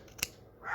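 A single quick snip of scissors trimming an embroidered fabric patch, short and crisp, followed by a faint rustle.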